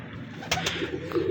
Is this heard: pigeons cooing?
yes